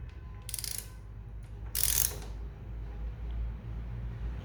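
A ratchet tightens a nut on the gear linkage of a Royal Enfield Himalayan motorcycle. Two short bursts of close, sharp clicking stand out over a low background hum, and nobody talks.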